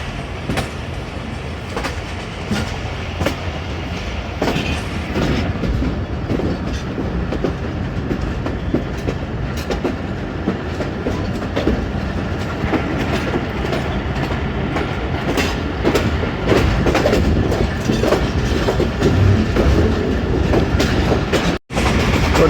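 Rehman Baba Express on its run from Rawalpindi to Faisalabad, a steady close rumble of rolling carriages with rhythmic clickety-clack and occasional faint wheel squeal, continuing without talk.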